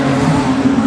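Production sedans racing on the dirt oval at Kingaroy Speedway in a Queensland title A-main, a loud, steady engine roar held at high revs, close and continuous without a break.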